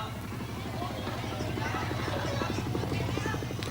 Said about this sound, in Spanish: Los helicópteros, que durante años habían representado el símbolo de una guerra de amplio alcance, ahora solo podían aterrizar en el tejado de la embajada